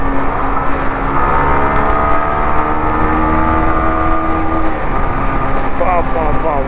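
A Yamaha R15 V4 motorcycle accelerates to overtake. Wind roar fills the clip, and a rising engine tone shifts upward under a rider's voice.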